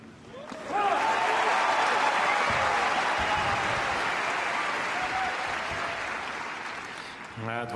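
A tennis crowd at the Apia International Sydney bursts into loud, sustained applause and cheering that swells quickly and holds steady before tapering slightly, with a commentator speaking over it.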